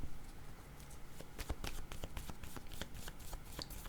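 A deck of cards is shuffled in a quick run of crisp riffling flicks and snaps, close and fairly faint, with a low background hum and no talk.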